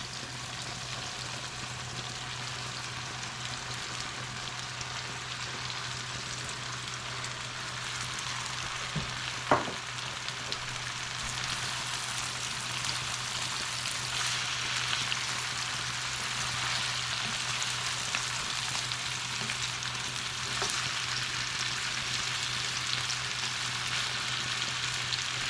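Organic farm-grown squash fries in a pan with a dense, continuous sizzle and crackle that stays steady for the full length, broken by one brief clink of a utensil; no voices present.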